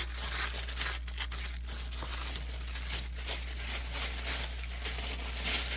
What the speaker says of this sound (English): tear off a little bit of this